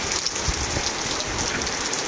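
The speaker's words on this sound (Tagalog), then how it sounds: "Eto na naman, ulan na naman ito." Steady heavy typhoon rain pours down without a break at a school, a dense hiss of drops striking surfaces up close.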